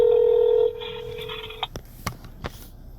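Touch-tone telephone dialing for a call: a steady dial tone breaks into a sustained tone, followed by a few short, sharp beeps and clicks, close and clear, with no talking.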